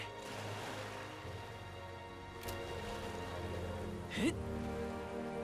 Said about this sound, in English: This bloody rain.